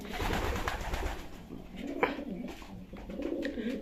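Pet pigeons coo in low, throaty repeated calls close by, overlapping one another, with faint handling noises and a brief voice in the background.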